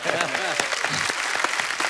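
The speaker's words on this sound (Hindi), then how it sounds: "एक बार जोरदार तालियां हो जाए" Audience applause at a show, dense sustained clapping from a crowd with voices mixed in, close and fairly full throughout.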